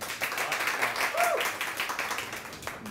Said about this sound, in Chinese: 大家知道这个时候要拍手